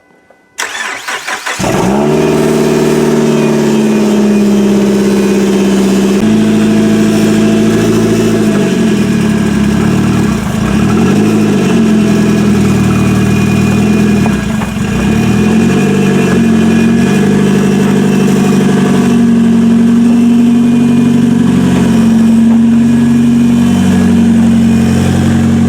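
A 2005 Mazda 3 demolition derby car starts and runs: the engine catches within a second, then settles into a loud, close, steady idle with slight rev shifts for about twenty-five seconds, with no talk.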